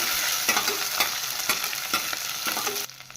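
Curry leaves, crushed garlic and green and dry red chillies fry in hot oil with a loud, steady sizzle, punctuated by regular stirring scrapes, close up and alone; the hiss drops sharply near the end.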